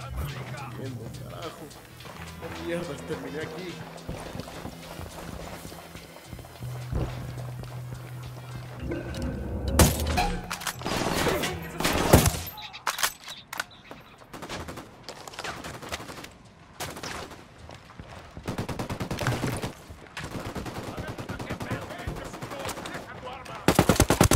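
Automatic gunfire in Ghost Recon Wildlands during a mission to destroy a convoy, with rattling bursts and sharp cracks throughout that grow denser midway, mixed with constant voices talking.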